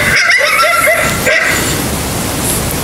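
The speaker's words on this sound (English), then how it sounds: "As you can see, it does a really nice clear bark." Coyote bark call played from a predator call app on a phone, a series of clear, sharp barks in quick succession over the first second or so and one more near the middle, loud against a steady background hiss.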